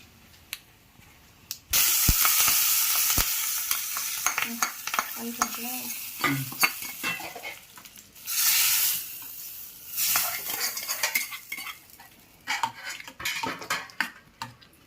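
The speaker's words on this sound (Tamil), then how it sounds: "எண்ணெய் வச்சு கடுகு உளுந்தம் பருப்பு போட்டு 2 மிளகா வத்த கிள்ளி போட்டு அதில் கொஞ்சம் கருவேப்பிலை போட்டு இதில் வந்து தாளிச்சிடலாம்." Mustard seeds, urad dal, dried red chilies and curry leaves tempered in hot oil in a pan, with crackling sizzle and sputtering, metal spoon scrapes and stirring clatter close up throughout.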